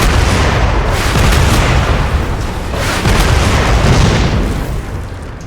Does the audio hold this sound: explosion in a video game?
yes